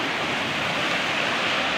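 Floodwater rushing after heavy rain submerges an area, a loud constant broadband roar that fills the clip with no gaps and no voices.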